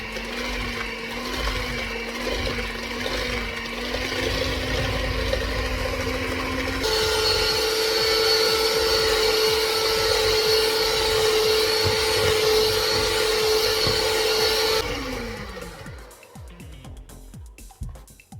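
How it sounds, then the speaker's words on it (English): An electric mixer beats butter and sugar for a cake, its motor whirring steadily, then stepping up to a higher, brighter speed about a third of the way in before winding down and stopping. "So I'm going to mix it until it became fluffy"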